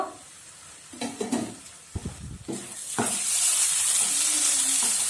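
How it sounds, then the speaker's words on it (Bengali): Spice masala for a chicken gizzard curry frying in a pan: a few scraping stirs and clanks at first, then a lid lifts and a strong, steady hissing sizzle builds and holds, close up with no talk. "এরকমভাবে মশলাটা পুরো কষায় নিব"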